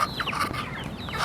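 Chickens clucking nearby in a yard, several quick overlapping clucks and squawks in a short burst, fairly loud and close with no talking.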